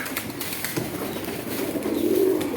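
Pigeons in a loft preparing to lay eggs give soft, steady cooing that swells toward the end, close and continuous with no one speaking.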